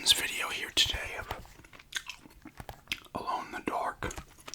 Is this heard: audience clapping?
no